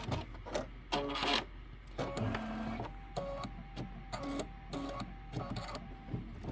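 An embroidery sewing machine stitches a tack-down line over twine on a mini quilt block, giving rapid mechanical stitching bursts with pauses, a steady hum and tonal whirring between runs, close up with no talking.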